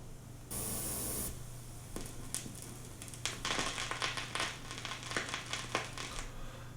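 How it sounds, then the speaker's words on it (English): Vinyl crackle noise inside a sample played in the Koala Sampler app: a steady hiss with scattered pops and crackles, opening with a brief loud noise burst, then a low hum beneath irregular clicks. "Got some vinyl noise in there."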